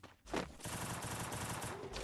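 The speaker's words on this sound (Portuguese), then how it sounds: "Tiro, cara." Rapid, continuous automatic gunfire in a Thompson shooting video game, a dense burst lasting nearly two seconds after a brief quiet start.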